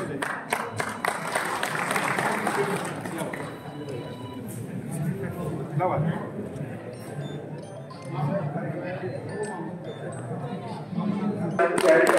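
An audience claps at an honouring ceremony, with a burst of applause at the start that gives way to crowd chatter and voices speaking over the murmur.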